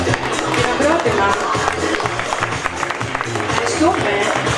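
Audience applause at a swimwear fashion show, steady dense clapping from a crowd throughout, with a presenter's voice talking over it.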